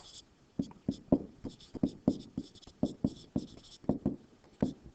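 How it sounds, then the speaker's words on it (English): Pen or chalk writing out a calculus antiderivative: a quick series of scratchy strokes and taps in an irregular rhythm, close and clear, with no talking. "We'll write it down below."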